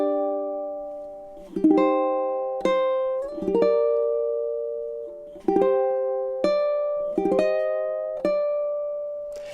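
A ukulele plays the opening three bars of a Sakura chord-melody arrangement, with plucked chords and melody notes ringing out slowly and sustaining clearly, alone and up close.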